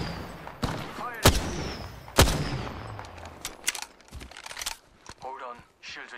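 Sharp, loud gunshots in the video game Apex Legends, a few spaced single cracks followed by smaller rapid pops, with game voice lines in between.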